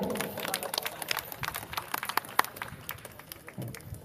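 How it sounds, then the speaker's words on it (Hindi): Audience clapping at a Chhatrapati Shivaji Maharaj Jayanti celebration in Sri Vijaya, scattered, moderately faint applause with uneven individual claps across the clip. "जोरदार तालियां बजा दीजिए।"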